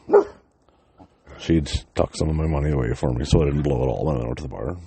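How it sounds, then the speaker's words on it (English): A pet dog gives a short bark near the start, then someone talks steadily with the dog faintly audible under his voice. "That's my dog."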